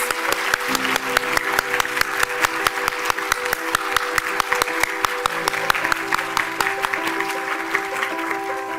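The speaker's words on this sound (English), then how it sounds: "Let's give another big round of applause to our performers." An audience at a sustainability awards ceremony applauds its performers, with many hands clapping in a fairly even, rhythmic beat over sustained background music tones, continuing strongly for several seconds.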